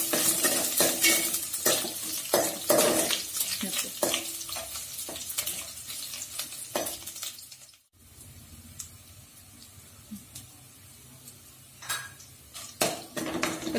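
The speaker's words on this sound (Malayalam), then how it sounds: "നമ്മുടെ ഉഴുന്നും കടലപ്പരിപ്പും പച്ചമുളക് എല്ലാം നന്നായി മൂത്ത് വന്നിട്ടുണ്ട്." Urad dal, chana dal and green chilies fry in a pan for tomato rice, with busy metal stirring scrapes and clatter over a sizzle. The stirring is dense at first and goes quieter midway, leaving softer frying and occasional scrapes.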